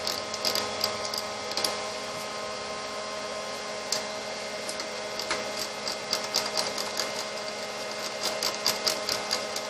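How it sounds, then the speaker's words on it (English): Ratcheting wrench clicking rapidly while backing bolts off a Kia Sorento/Sedona engine during a timing job, a dense mechanical ticking over a steady shop hum, close and fairly quiet. "I have a ratcheting wrench we'll do that with"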